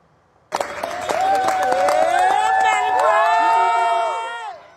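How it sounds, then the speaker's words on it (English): A large, socially distanced crowd cheering and whooping outside a hospital, erupting suddenly after a quiet moment into loud sustained shouts and cries that swell together, then fade at the end. "big group of people all socially distanced and cheering"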